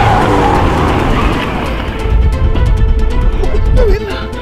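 A car skids loudly to a stop, with a dense roar of tires and engine that ends in a brief squeal, close and with no talk.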